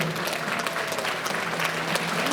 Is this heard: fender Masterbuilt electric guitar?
no